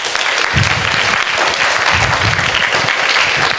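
An audience at a self-image workshop at a school in Bangalore claps steadily throughout, a dense, close, sustained round of applause with no voices over it.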